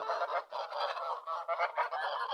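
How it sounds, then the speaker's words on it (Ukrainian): Farm geese honk continuously in a noisy, overlapping chorus, loud and close with no pauses. "Це ми прийшли до гусей."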